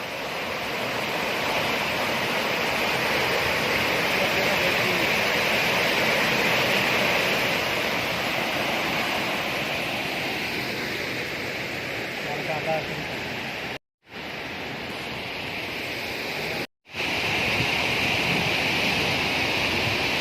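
Rushing canal water roars loud and steady at close range, a dense continuous wash broken only by two brief dropouts near the end.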